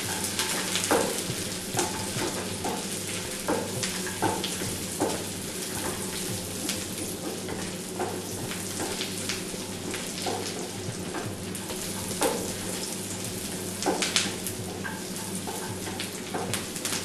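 Cashew nuts frying in a pan for cherupayar payasam, a moong dal kheer, with a steady close sizzle broken by repeated scrapes and clicks of stirring; no voices.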